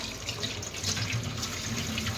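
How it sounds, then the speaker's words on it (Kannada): Water pours steadily from a tap in a constant, close rushing stream with no speech. "ಈ ಥರ ಸ್ವಲ್ಪ ನೀರು ಬಿಡಬೇಕು."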